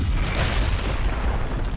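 Red Reversal explosion in the video game Sorcerer Battlegrounds, a dense, loud, sustained boom with a heavy low rumble spread evenly across the whole moment, with no voices.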